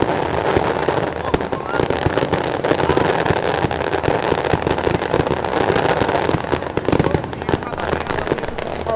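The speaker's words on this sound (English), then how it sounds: "these fireworks, that's pretty much how they announce which school is gonna be performing next" Fireworks at the Rio samba parade, a dense, continuous barrage of loud crackling bursts and pops mixed with crowd noise, with someone talking over it.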